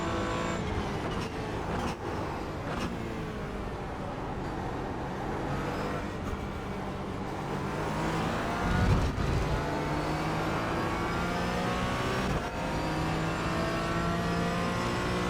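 A race car engine runs hard through a lap, a steady loud drone that rises and falls with gear changes and acceleration, with a brief rougher burst partway through.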